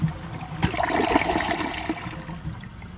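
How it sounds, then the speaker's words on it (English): A WaterRidge one-piece toilet, 2018 model, flushes nearby: a sharp release followed by a steady rush of water swirling and draining for a few seconds, with no one speaking. "let's give this toilet a flush and see how it does on tests"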